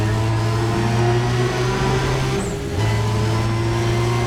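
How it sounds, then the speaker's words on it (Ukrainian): Car engines in the racing video game NFS ProStreet, some recorded with mufflers removed, drone steadily with strong low harmonics throughout, a pitch shift midway hinting at a gear change, loud and continuous with no talk. "Та і самі звуки авто те, що треба."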